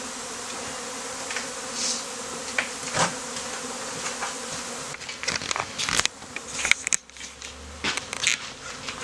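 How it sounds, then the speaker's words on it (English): Honey bees buzz around a wooden hive box, their soft, continuous drone heard close and fairly quiet, with a few individual bees zipping past and light tapping and handling noises near the end. "So here the bees are in the hive box."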